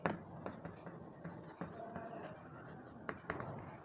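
Pen writing a maths solution on paper, faint scratchy strokes and light taps in short irregular bursts, close but soft, under a quiet teacher's voice.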